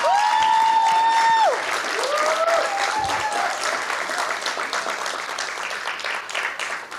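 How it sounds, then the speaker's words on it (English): Audience applause at a Curvy Girl Project debutante event, a broad wash of clapping hands under a sustained wavering whistle-like tone early on, continuing steadily and fading slightly toward the end. "So let me get a little bit of louder applause for Miss Dorothy Tankersley."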